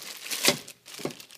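A plastic bag of bratwursts is crinkled and handled, producing two short bursts of rustling close by with a brief pause between them.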